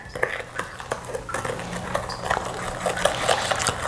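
Ginger juice is mixed with water in a bowl for Jamaican ginger bulla, with irregular close clinks, taps and scrapes of stirring and some speech in the background.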